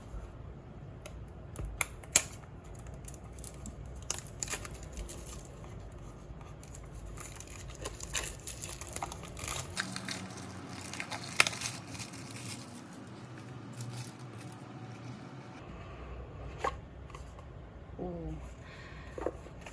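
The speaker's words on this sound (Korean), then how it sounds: "에이스 하우스 타로를 먼저 언박싱 해볼게요" A matte cardboard box for a tarot deck is opened and handled up close. Quiet taps, scrapes and crinkles come in scattered bursts, with a denser rustling stretch midway.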